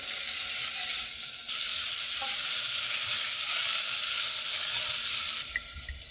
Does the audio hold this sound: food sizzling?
yes